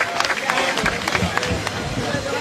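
An audience at a university ceremony in Zambia applauds a student presentation, a full round of clapping with crowd murmur and scattered voices underneath.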